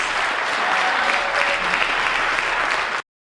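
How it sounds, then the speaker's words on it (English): Audience applause fills the hall at a scholarship benefit concert, a dense, steady roar of many hands clapping for about three seconds before it cuts off abruptly. "give her a round of applause"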